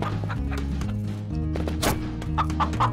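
Chicken clucking in the Shotgun Farmers video game: loud, close, repeated short clucks in an uneven rhythm over a steady game music bed, with no talk in the clip.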